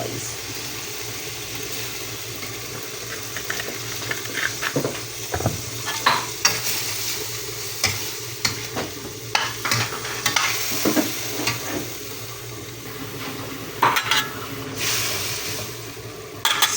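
Pancit bihon stir-frying in a pan as soy sauce goes in: a continuous low sizzle broken by frequent sharp clacks and scrapes of the utensil tossing the noodles, close and fairly quiet.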